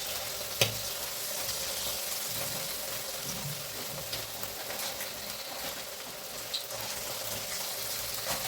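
Chicken 65 pieces fry in hot oil with a continuous close sizzle and bubbling, broken by a couple of sharp clicks as pieces drop in, and no speech.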